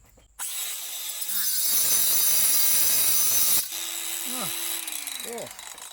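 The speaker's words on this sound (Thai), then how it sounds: "เราจะมาทดลองตัดตะปูกันดูนะครับ ว่าเจ้านี้มัน สามารถตัดได้ไหมนะครับ" A cordless 4-inch angle grinder cuts through a nail. It gives a loud, steady high-pitched grinding whine for about three seconds, followed by the motor spinning down and revving again in short bursts.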